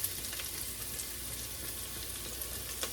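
Minced onion and fresh oregano fry in hot oil, giving a steady, close sizzle with a dense crackle that holds without a break and no one talking.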